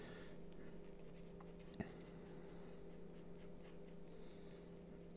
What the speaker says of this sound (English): I'm just working this 2B pencil now in.